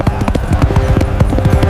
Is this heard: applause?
no